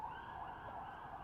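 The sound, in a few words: emergency vehicle sirens at night in Jerusalem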